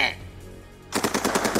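Rapid automatic gunfire in a visual novel video game, a loud close burst of quick repeated shots cutting in abruptly after a brief quieter tonal passage.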